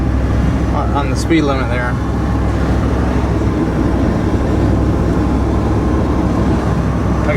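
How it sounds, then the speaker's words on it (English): A Ford truck with a newly made tailpipe cruises with its exhaust giving a steady, low, rumbling drone throughout, while someone talks over it inside the cab. "I can get off the throttle a little bit and it'll just kind of burble its way"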